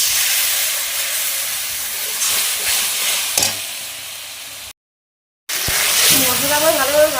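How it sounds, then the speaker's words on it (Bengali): Spice paste fries in a pan with a little water for a jackfruit and prawn curry, a loud steady hiss and sizzle broken by a brief gap, with a voice near the end. "আমি আরও ভালো করে মশলাটা ভাজিয়ে দিচ্ছি।"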